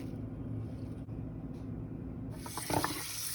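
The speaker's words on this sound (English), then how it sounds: "I rinsed out his water dish and put new water in." A pet's water dish rinsed under a running tap and refilled on a small hobby farm: a steady low stream of water, then a sudden brighter, louder gush of splashing flow near the end.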